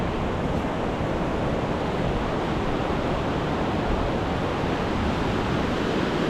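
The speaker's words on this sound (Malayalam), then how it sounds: "സീന വെള്ളച്ചാട്ടം." Near a waterfall, rushing water roars in a steady, dense, loud wash that never lets up, close and alone with no voices.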